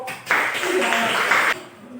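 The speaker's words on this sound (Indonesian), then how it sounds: "Oke, tepuk tangan untuk kelompok" Junior high school students in a classroom give a short round of clapping for a presenting group, a brisk burst of a little over a second that fades into quiet room tone.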